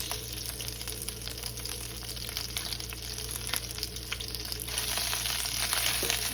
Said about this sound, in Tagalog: Ibusin natin ang ating cabbage.